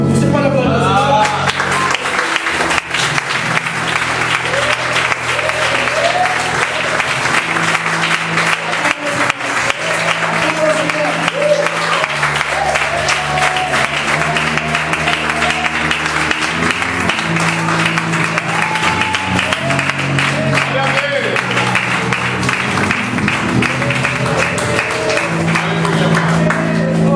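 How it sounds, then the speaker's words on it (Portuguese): A church congregation applauds at length, a broad continuous wash of clapping with scattered shouts, carried over sustained instrumental music and voices throughout. "Você pode aplaudir."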